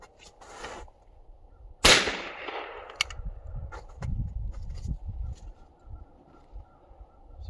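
A single sharp .410 shotgun shot rings out outdoors in snow-covered woods, a loud crack with a short decaying tail, followed by faint rustling and low handling noise.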